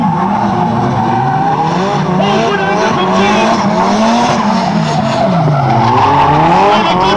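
Nissan S13/14 and S14/15 drift cars slide sideways together at a pro drift demo, with loud, continuous tire squeal and wavering engine revs that never let up.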